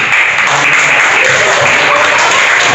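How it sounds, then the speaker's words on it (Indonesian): A class of school students claps together in a classroom, a loud, dense burst of hand clapping that continues evenly throughout, recorded close and somewhat harsh. "Apresiasi dulu, tepuk tangan."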